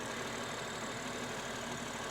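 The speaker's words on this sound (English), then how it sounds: "But she's a purring engine." A 2022 Toyota GR Supra 3.0 Premium engine idling under an open hood, a close, steady, even rumble with no variation in pitch or level, and no voices.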